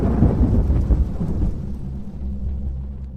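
Rolling thunder over steady rain, a loud rumble that fades slowly into a softer, continuous hiss of rainfall, with no voices.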